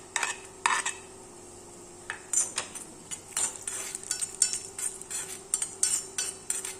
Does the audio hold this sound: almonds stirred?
yes